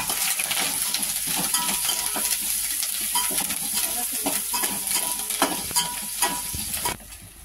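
Green chillies and curry leaves crackle in hot oil while the tempering for a buttermilk kadhi is stirred, a loud, continuous sizzle with sharp pops and spoon scrapes, cutting off near the end.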